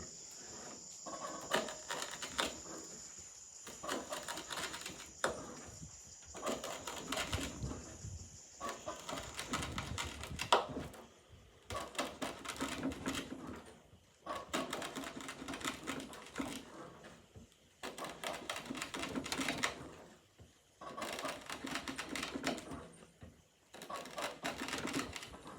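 A Condor Terrasaur knife with a 1095 carbon steel blade makes a series of test cuts: about ten separate scraping, slicing bursts in a steady rhythm, close and fairly loud, with brief pauses between strokes and no talking.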